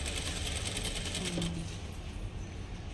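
Sewing machine stitching thread piping, a fast rhythmic mechanical chatter close by that stops partway through, leaving a low hum.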